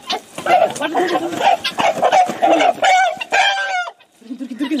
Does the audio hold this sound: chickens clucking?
yes